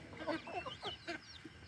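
Chickens clucking while pecking at feed sacks, a close run of short, quiet clucks and murmurs in quick succession.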